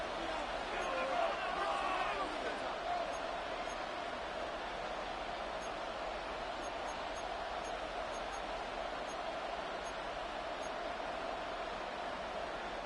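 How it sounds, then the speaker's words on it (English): A stadium crowd roars in a Madden 26 football game with the Packers, a broad, steady wash of distant cheering that swells slightly at the start, while a commentator talks over it. "this crowd doing their best to make a lot of racket"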